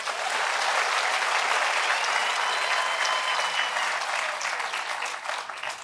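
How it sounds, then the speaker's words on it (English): Steady, full applause from the audience at the Platreef Mine opening ceremony in Mokopane, Limpopo, many hands clapping continuously for about six seconds with a slight easing toward the close. "Let's give them a round of applause"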